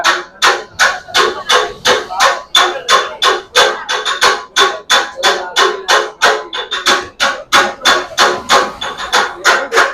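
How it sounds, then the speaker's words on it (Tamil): Rapid metallic clanging of blades chopping kothu parotta on a hot griddle at a parotta shop in Velankanni, a fast steady rhythm of sharp ringing strikes, loud and close with no talking. "இது வந்து கொத்து பரோட்டா சவுண்ட்"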